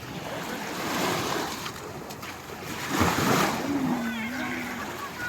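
Sea waves wash in a steady, close roar at a beach in Lobo, Batangas at low tide, with gusts of wind and a faint voice in the background.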